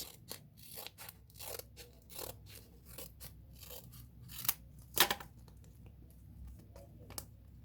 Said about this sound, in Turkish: Şimdi kesiyorum